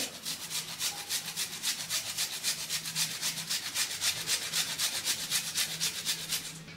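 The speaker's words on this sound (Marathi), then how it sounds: "1 तुकडा आल्याचा घेतलेला आहे, अर्धा इंच आलं घेतलेलं आहे, ते पण आपल्याला किसून घालायचं ह्याच्यामध्ये" Half an inch of fresh ginger rubbed against a grater, making a steady rhythmic rasping, about four strokes a second, close and continuous with no talk.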